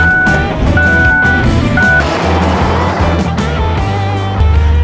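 Interior of a car driving along a road, a loud steady engine and road rumble with faint tonal beeps early on and no talk.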